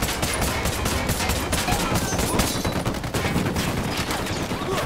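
Gunfire in Ghost Recon Wildlands: dense, loud bursts of automatic rifle fire rattle continuously with sharp repeated cracks, a sustained firefight without pause.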